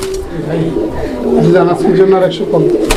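Lahori Bombay pigeons cooing at a pigeon market, low rolling coos close up, with people talking over them.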